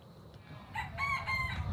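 A rooster on a farm crows once nearby, a short, loud, strained call rising out of quiet background noise with no voices.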